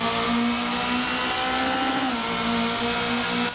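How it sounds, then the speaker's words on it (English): A steady, loud Ford Fiesta WRC rally car engine drone heard from inside the car in Assetto Corsa, its pitch dipping slightly midway before holding steady. "I'll let you listen to the car from the interior"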